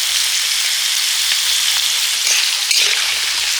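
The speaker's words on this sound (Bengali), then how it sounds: "খিচুড়ির সবজিগুলো ভেজে নেব। প্রথমে আলুটা দিয়ে দিলাম, এবারে কুমড়োটা দিয়ে দিচ্ছি।" Potato and pumpkin pieces frying in hot oil for khichuri, a loud steady sizzle that hisses continuously from start to end with no pauses or voices.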